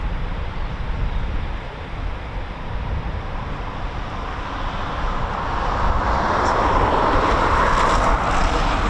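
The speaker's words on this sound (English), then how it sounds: "one taxiing already for departure" An RAF Eurofighter Typhoon FGR4 jet taxis for departure at RAF Coningsby, a broad steady roar of engine noise that grows louder toward the end with a faint high whine, heard at a distance outdoors.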